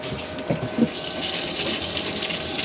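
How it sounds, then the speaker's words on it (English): Hot water runs from the sink tap in a Hymer B544 motorhome, a steady close hiss of flowing water with a couple of soft splashy knocks near the start, and no talking. "you've got hot water coming through there"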